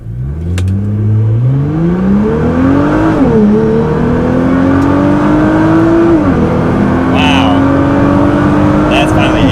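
Tuned Nissan GT-R accelerating hard from a standstill to 60 mph in high boost with the transmission in save mode, engine note climbing steadily through several gear changes, loud and close throughout, with people talking over it.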